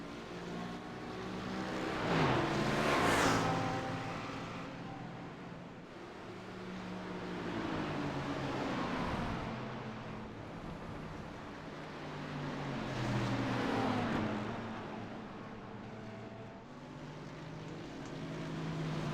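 A BMW Z4 in a racing video game at VIR drones steadily, its engine note rising and falling in long repeated swells over about nineteen seconds.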